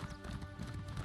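A horse's hooves clip-clopping in a fast rhythmic gallop in the Elder Scrolls Online game, steady repeated beats at low level under faint background sound.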